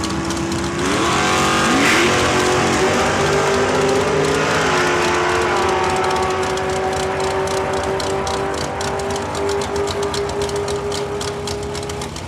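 A dragster at Saskatchewan International Raceway roars close and loud, its engine note rising through several gear steps before settling into a sustained high-pitched howl that lasts the whole run.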